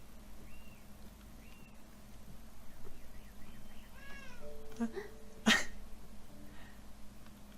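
A cat meows in the video game Beyond Eyes, several short soft meows scattered across a quiet ambient game soundscape with a low steady hum, one sharp click near the end.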